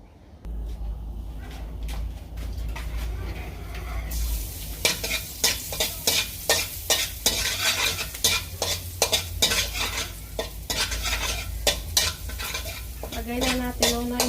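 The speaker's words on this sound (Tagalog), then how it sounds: "Lagay na natin muna yung ating garlic hanggang mag-light brown." Garlic frying in a pan for kimchi fried rice: a loud, dense sizzle starts partway in and runs on, with repeated sharp spatula scrapes and clanks against the pan at a quick, uneven rhythm.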